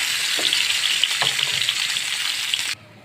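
Fish frying in cooking oil in a home kitchen, a steady bright sizzle with a couple of soft knocks from stirring, ending abruptly as the sound cuts out.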